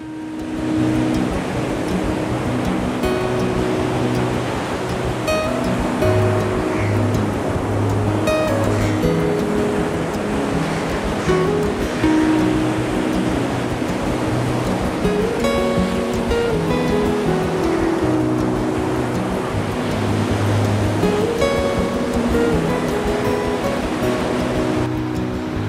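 Sea waves wash onto Marina Beach in Pondicherry at sunset, a loud, continuous rush of surf with a steady low rumble underneath throughout.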